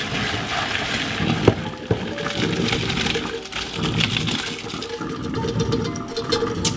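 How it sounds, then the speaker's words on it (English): Pasta cooking water poured out of a pot into a sink, a steady splashing, gurgling stream with small bumps and clatters, fairly close and running for several seconds without speech. "It's time to dump out the water and check it out."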